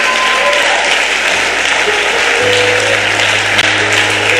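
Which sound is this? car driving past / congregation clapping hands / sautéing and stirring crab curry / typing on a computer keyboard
congregation clapping hands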